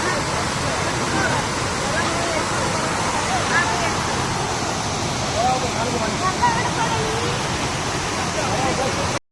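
Steady rushing water pours continuously, a broad roar like a spillover with faint voices in the background.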